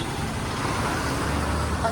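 A bus bound for Chengannur rolls past in busy road traffic in Kozhencherry, Pathanamthitta, a steady broadband roar of engines and tyres that holds at an even, fairly close level throughout.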